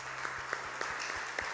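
Applause from an audience at a men's church meeting on finances, a steady dense patter of clapping filling the short moment at moderate level.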